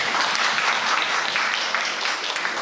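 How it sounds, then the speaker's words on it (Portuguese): Audience applause at the close of a professor's lecture at a seminar, a steady crowd of clapping hands holding level throughout and easing slightly near the end. "As palmas também servem para todos nós, para a nossa participação"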